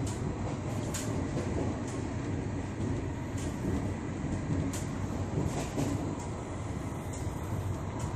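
Steady, loud rumble and rattle fill the inside of a moving train coach at night, with faint clicks of the wheels over the rails and no voices.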